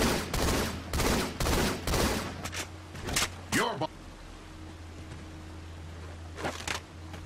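Gunfire in Halo 2 Anniversary, loud bursts of rapid shots in several volleys followed by a sweeping weapon sound and scattered later shots, with someone talking throughout.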